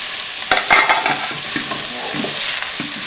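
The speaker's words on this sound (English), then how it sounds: "Give it a stir." Chopped herbs and onions sizzle in a frying pan while being stirred, a loud close hiss broken by scraping and clattering stirring strokes.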